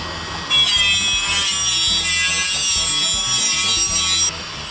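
A Dremel rotary tool spins up into a loud, high, gritty whir while cleaning and detailing small corners. It holds steady for about four seconds, then cuts off abruptly.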